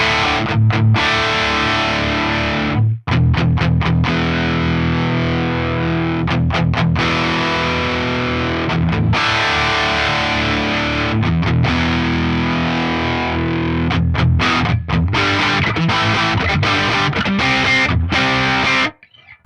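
A distorted Fender American Professional Deluxe Telecaster plays loud chords and riffs for nearly twenty seconds, its tone shifting in brightness and bass as the tone knobs are adjusted, with brief pauses between phrases.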